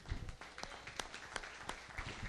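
A church congregation claps briefly during a Portuguese-language sermon, sparse and uneven claps at low level over a couple of seconds with some rumbling room noise.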